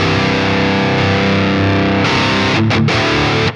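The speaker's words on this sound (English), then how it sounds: "So immediately, I want some more distortion." Electric guitar played through a Marshall amp with heavy distortion, a thick sustained chord ringing loud and alone, then a few choppy strums before it cuts off.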